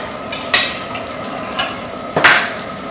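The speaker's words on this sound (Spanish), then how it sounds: "Lo que vamos a hacer ahora ya es añadir lo que es el fumé" Fish stock poured into a sizzling paella pan with rice, cuttlefish and prawns, a few hissing bursts as the liquid hits the hot pan, close and fairly loud.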